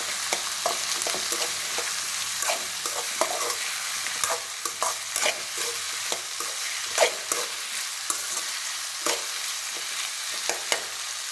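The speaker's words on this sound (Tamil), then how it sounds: "கத்திரிக்காய் நல்லா வதங்கிடுச்சு" Eggplant sautéing in oil in a pan for kara kuzhambu gives off a continuous close sizzle, with frequent light clicks and scrapes from stirring.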